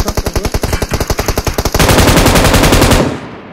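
A rapid burst of automatic gunfire from an M249 with a 150-round magazine in PUBG Mobile: about twenty evenly spaced loud shots, then a denser sustained roar of fire that cuts off abruptly, close and dominant.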